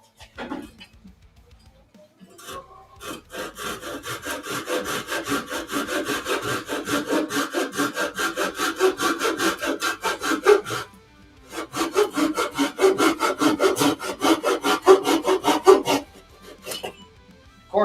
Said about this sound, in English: But not bad little saw. It would be good for trim work, flush cut.